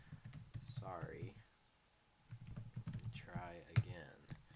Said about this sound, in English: I'm just typing it in to get a look at it